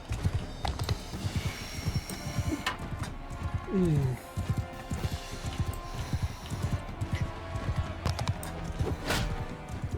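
Rapid rhythmic hoofbeats of a galloping horse in Mount & Blade II: Bannerlord, steady and close, over a busy background of game sounds.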